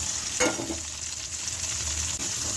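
Tomatoes hit a hot pan of garlic tempering and fry in oil, giving a steady close sizzle with a brief stirring clatter near the start and no talk.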